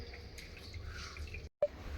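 Water drips and trickles close by as soaked food is wrung out by hand, a steady soft dribble broken by a brief silent pause and then a small splash.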